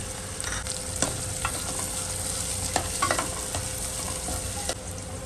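Onions and tomatoes cooking in a pan for spicy sprouted moong, with a soft steady sizzle and occasional spoon clinks and scrapes, fairly quiet and without voices.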